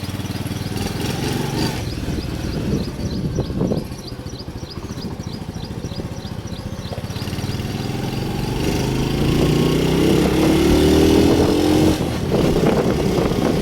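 A motorcycle engine runs close by as the bike is taken out onto the road, a rough continuous putter that dips briefly and then grows louder and steadier.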